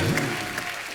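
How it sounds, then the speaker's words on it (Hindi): A studio audience at a comedy show breaks into loud applause, a dense burst of clapping close by with a faint voice briefly underneath. "इनके लिए जोरदार ताली हो जाए"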